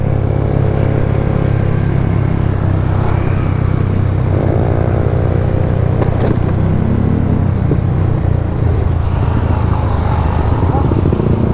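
Motorcycles ride at night on a road in Cebu in zero visibility, their engines droning loud and close throughout. Revs rise and fall as the bikes pass and accelerate.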